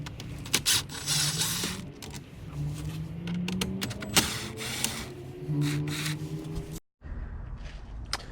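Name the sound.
removing Torx screws with a T10 bit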